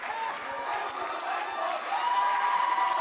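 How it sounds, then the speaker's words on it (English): Student section crowd from Pitkin chanting at an Oak Hill girls' playoff basketball game, a steady, loud rolling roar of voices that swells louder near the end, with cheering mixed in. "you can hear the chants of wait till baseball up in the crowd by that student section from Pitkin"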